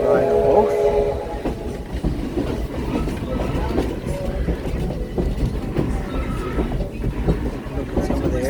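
A train at Heritage Historic Park rolls by with continuous rumbling and clattering wheels, a brief horn-like tone sounding near the start.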